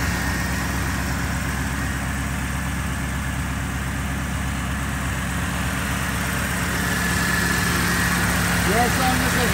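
A 1987 Chevrolet Corvette engine runs on a test stand, complete with belt-driven accessories, transmission and ECU, holding a steady idle with a low throbbing hum and constant rumble that swells slightly toward the end.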